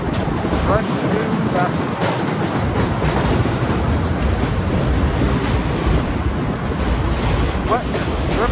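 Elevated train rumbling overhead on a street between Queens and Manhattan, a loud, steady, continuous roar and rattle filling the whole stretch, heard from below while riding an electric unicycle.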